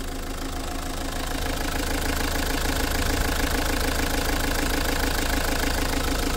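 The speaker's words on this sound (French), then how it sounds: "vais faire écouter le moteur, comment il tourne" Close, steady idle of a Renault Scenic 2 1.5 dCi diesel engine with a rhythmic knocking clatter, loud and continuous with no voices.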